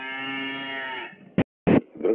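A cow gives one long, low, droning moo close by, then it fades and a few short, sharp knocks follow.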